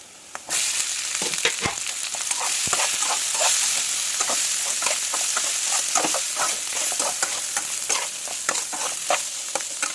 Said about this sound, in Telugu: ఈ ఆలుగడ్డలు కూడా చిన్న చిన్న ముక్కల కింద కట్ చేసుకుందాం. పీసెస్ వేసేసుకుందాం.